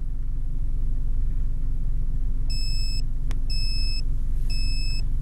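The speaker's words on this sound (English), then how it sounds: "And you'll hear 3 beeps." Three sets of high electronic beeps, evenly spaced, sound over a steady low rumble of background noise, with a sharp click between the first and second.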